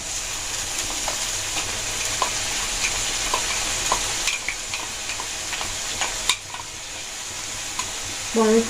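Onion paste frying in hot oil in a pan, a steady close sizzle with intermittent scraping taps of a spoon stirring throughout and a brief clatter at the end.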